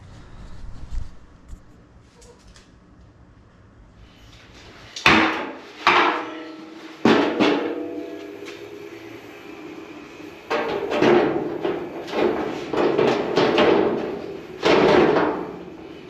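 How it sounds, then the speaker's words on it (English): Metal edge hammered over a dolly on a 1940 Ford shop truck, a string of loud sharp impacts with ringing tails, sparse at first then rapid bursts of blows close by, following quieter shop noise. "I'll use that one to hammer the edge around"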